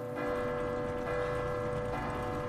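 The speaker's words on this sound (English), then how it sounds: "Let's ring that bell," Clock tower bell in the Resident Evil video game: three resonant metallic clangs with long ringing overtones, roughly evenly spaced and overlapping into a sustained hum, loud with no speech.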